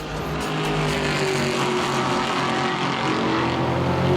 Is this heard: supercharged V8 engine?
yes